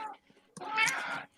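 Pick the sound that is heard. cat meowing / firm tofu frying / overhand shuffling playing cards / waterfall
cat meowing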